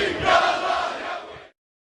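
A protest crowd in Libya, being warmed up by a TV crew ahead of a live report, roars and chants together in a dense wash of voices for about a second and a half before cutting off abruptly.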